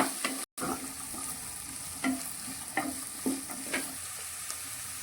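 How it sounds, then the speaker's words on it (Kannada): Beans, carrots and fresh peas stir-fry in a pan for vegetable upma, a steady sizzle broken by repeated scraping strokes of a spoon, close and alone without talk. "ಇದಕ್ಕೆ ಬೀನ್ಸ್, ಕ್ಯಾರೆಟ್, ಬಟಾಣಿ ಸೇರಿಸ್ಕೊಳ್ತಿದ್ದೇನೆ."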